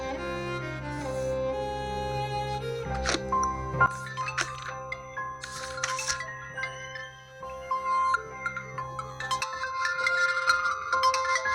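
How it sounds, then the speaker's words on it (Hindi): A phone ringtone plays a bright electronic melody of repeated tonal phrases for several seconds, clear and fairly close, with no talking over it. "अरे यार इसका फोन आ गया सुबह सुबह"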